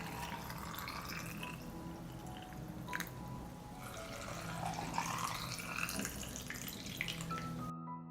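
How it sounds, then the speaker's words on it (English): Water poured into glass canning jars of blueberries gives a faint, steady trickling and dripping that runs for several seconds before cutting off abruptly, with no voices. "Fill the jars with water to cover the blueberries."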